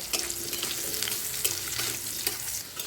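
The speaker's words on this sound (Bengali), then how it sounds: "আমার কিন্তু আলুগুলো এখানে লাল লাল করে ভাজা হয়ে গেছে" Potatoes seasoned with turmeric and salt frying in oil until reddish-brown, a steady close crackling sizzle with occasional stirring scrapes and no talking.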